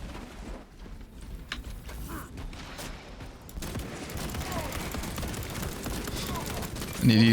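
Pistol shots in a video game crackle through a busy mix, short sharp reports scattered among background game noise, moderately loud, with a voice talking over part of it.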